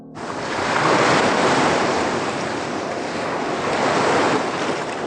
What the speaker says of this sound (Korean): 그 파도 소리가